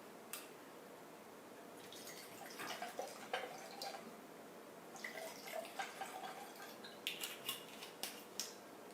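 Water runs faintly from a tap with light trickling and dripping, scattered splashes growing busier toward the end over a quiet background hiss.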